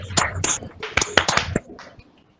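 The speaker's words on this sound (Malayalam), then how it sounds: "എല്ലാരും ഒന്ന് അൺമ്യൂട്ട് ചെയ്തിട്ട് ഒന്ന് ക്ലാപ്പ് ചെയ്തേ" A handful of people clapping over a video call, short uneven bursts of thin, slightly compressed claps that fade out toward the end.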